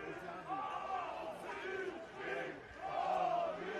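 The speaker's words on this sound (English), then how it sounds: "So the Olympic fans find their voice again" Sydney Olympic FC supporters chant and cheer in the stands during a football match against Sydney United 58 FC at Lambert Park, a loud, sustained crowd roar that swells in waves.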